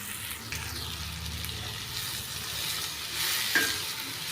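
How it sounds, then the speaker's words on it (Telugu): Ridge gourd pieces are stirred in a cooking pan, a soft continuous sizzle with faint scraping and a brief clink near the end, close by and moderately quiet, no talking. "ఇందులో బీరకాయలు వేసి బాగా కలపాలి."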